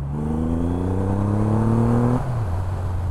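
A Triumph Rocket 3 R triple-cylinder motorcycle engine revs up loud and close, pitch climbing steadily for two seconds before dropping back to a lower steady drone.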